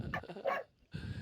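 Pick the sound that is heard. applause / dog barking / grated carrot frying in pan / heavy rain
dog barking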